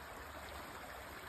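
Creek water streams steadily beneath the Alley Creek Bridge on Pitney Lane, a broad, continuous rushing wash with no voices or breaks, heard close and even throughout.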